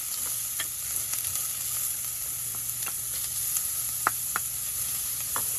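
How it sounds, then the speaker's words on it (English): Onions and garlic sizzle steadily in hot olive oil, a continuous close frying hiss with a few soft clicks of a utensil, fairly quiet and with no voices. "after the olive oil is hot, we're going to put our onions in. Then we're going to put our garlic in."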